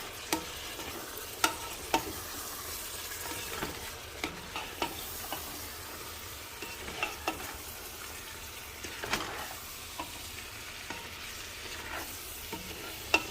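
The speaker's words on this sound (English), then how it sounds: "Oh yeah, you can hear it sizzling now, baby." Vegan chili sizzles quietly in a pot, with a soft continuous hiss broken by light, irregular spoon knocks against the pot while it is stirred; no voices.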